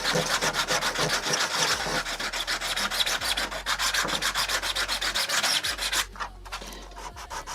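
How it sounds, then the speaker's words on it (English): Steady rhythmic sanding strokes on a 3D printed model airplane wing, close and continuous, a dry scratchy rubbing that repeats quickly before easing off near the end. "At the moment we're just working on the wings, we're sanding it down."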